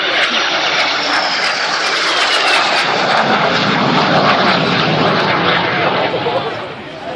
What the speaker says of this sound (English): The whistling sound of the little goblin engine that powers the Vampire with Colonel Rama Iyer.